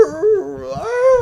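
A person imitates a howling dog, a single drawn-out wavering vocal howl that rises and dips in pitch, close and fairly loud.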